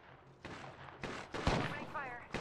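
Gunshots from the video game Apex Legends crack in several quick bursts, fairly faint, with a player's voice talking over them.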